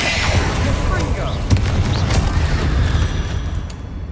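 Confringo blasting spell cast in Hogwarts Legacy on PC: heavy, continuous rumbling blasts broken by sharp cracks, loud and dense throughout the combat mix.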